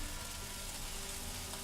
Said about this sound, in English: we may as well throw in the hardest vegetable of all of them, which is the onion